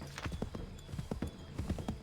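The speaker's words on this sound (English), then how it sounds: "We are on a horse." Horse hooves clip-clopping at a gallop in Assassin's Creed III, a quick run of distinct thuds at a steady rhythm, moderately close and heard alone.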